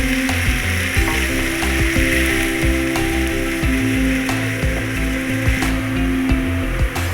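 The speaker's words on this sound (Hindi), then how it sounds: "ये प्याज फ्राई हो चुके हैं" Onions being fried golden in oil in a pan, with a steady sizzle under clattering and scraping stirring sounds throughout.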